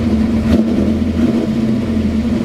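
A GM car engine idles right after a weak start, a steady close mechanical hum with a faint rise in the middle and no voices over it.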